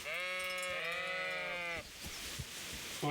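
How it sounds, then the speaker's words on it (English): Sheep in the Kingdom Come: Deliverance video game bleat in a long, wavering call, then a second overlapping bleat, close and clear, followed by a short pause with faint rustling and the start of another call. "There's some sheep up here."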